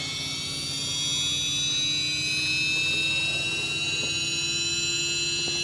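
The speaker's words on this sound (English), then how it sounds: "Can hear the flywheel winding up." Losi Promoto RC motorcycle flywheel winding up trackside at an RC raceway, a steady high electric whine with slowly rising pitch held continuously over a low hum, fairly loud and close.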